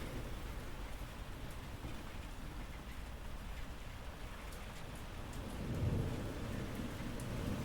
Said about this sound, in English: Yeah, this here storm that's is weird.